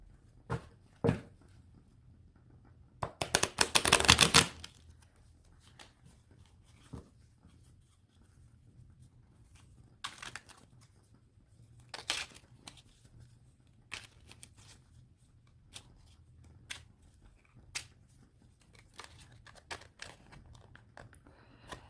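Quiet room with a burst of tarot card shuffling, followed by scattered soft taps and rustles of cards being handled.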